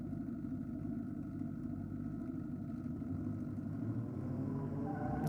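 A Nissan Patrol doing a burnout at a Sydney diesel drag race produces a sustained, droning engine roar heard at a moderate distance, with a loud, even, unbroken tone throughout.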